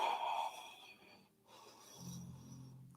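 Slow, soft breathing during a yoga session, one long audible exhale fading out, then a quieter breath after a short pause, close and faint.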